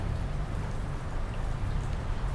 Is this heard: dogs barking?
no